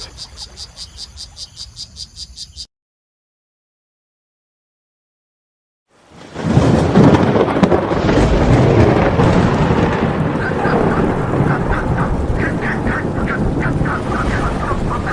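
A summer thunderstorm over the Pantanal wetlands of central South America: after a short burst of close insect chirping and a silent gap, a loud, steady rumbling roar of heavy rain and thunder rises and carries on to the end.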